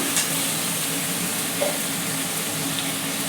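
Spice masala with raw cumin fries in a pan for a doi katla yogurt fish curry, giving a steady, even sizzle and hiss close by, with no talking.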